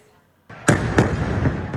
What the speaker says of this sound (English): Israelis woke to a barrage of rocket attacks.